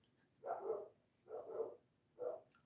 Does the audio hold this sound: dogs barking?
yes